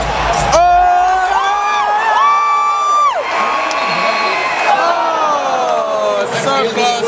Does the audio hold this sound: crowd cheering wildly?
yes